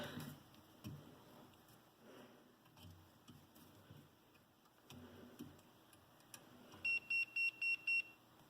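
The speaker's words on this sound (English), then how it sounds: "That's my multimeter going, hey, you haven't used me." A multimeter gives five short, evenly spaced high-pitched beeps near the end, faint against a quiet room with soft handling noises beforehand.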